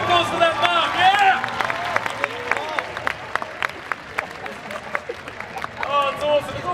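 An audience at a Supanova Sydney 2011 cosplay competition claps, with a steady patter of applause under an announcer talking over a PA, rising again at the end.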